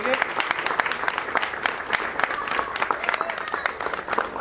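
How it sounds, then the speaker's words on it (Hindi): An audience at a bhajan program claps in steady, dense applause throughout, with a voice talking over it. "इनके लिए एक बार बहुत बहुत तालियां आप बताइए।"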